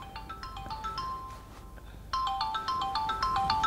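A phone rings with a repeating electronic ringtone melody, quick bright beeping notes that pause briefly and then resume louder and closer.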